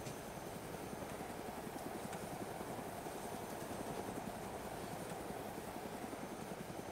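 Helicopter flying in the video game DayZ, a faint, steady rotor chop with a continuous droning hum, unchanging throughout and heard alone.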